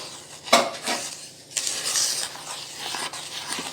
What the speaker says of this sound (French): Mélange. Je mélange.